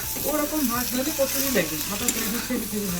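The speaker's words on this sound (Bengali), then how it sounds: "একবারে মশলা দিয়ে দিয়েছি এক্ষুনি দিলাম মশলা আগে ভেজে নিয়েছি সবজিটা তারপর মশলাটা দিলাম" Potato and pointed gourd fry with freshly added spices in a pan, with a steady sizzle and periodic scraping strokes beneath a voice talking.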